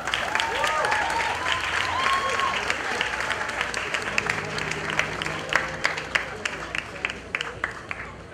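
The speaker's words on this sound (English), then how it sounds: "Let's give him another round of applause." Graduation ceremony audience applauding after a commencement speech, a sustained, dense wash of clapping from a large crowd, steady throughout with a few sharper claps near the end and some faint voices mixed in.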